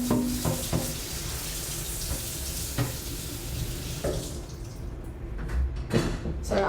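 Water runs steadily into a kitchen sink during washing up, a constant hissing rush broken by clinks and knocks of dishes being handled.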